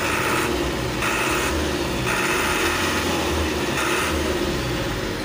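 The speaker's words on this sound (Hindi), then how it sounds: "तो ये है इंजन रेस के लिए" Diesel engine of a transit mixer truck running and revving, a steady loud rumble whose pitch and intensity swell and fall in several surges, heard alone without talk.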